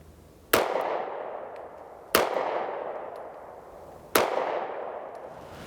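Three sharp, loud pistol shots from a CZ 75 D Compact on a range, evenly spaced about one and a half seconds apart, the first from a long double-action trigger pull, each followed by a decaying echo.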